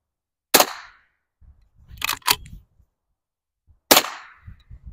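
Two sharp, close .22 rifle shots fired unmuffled as a control, each a crisp crack with a short decaying tail, separated by a few seconds of quiet with faint handling rattles between.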